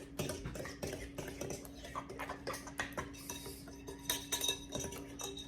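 A utensil stirs a French toast egg and cinnamon mixture in a bowl, with a steady run of quick clinks and scrapes against the dish, close and fairly quiet, with no voices.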